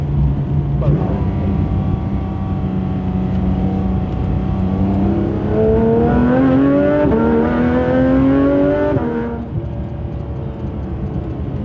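A Porsche GT3 RS with an IPE exhaust revs and climbs in pitch through the gears, loud and close, then drops back to a lower drone.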